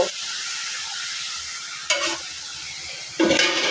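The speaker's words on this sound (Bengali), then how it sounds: "আমি কিছুক্ষণ মাংস ভেজে নিচ্ছি" Meat frying in a pan as filling for momo, a steady close sizzle with two brief louder bursts of stirring or scraping partway through and near the end.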